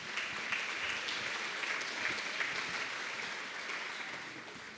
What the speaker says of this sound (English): let's give Shane and Lisa Sherwood a round of applause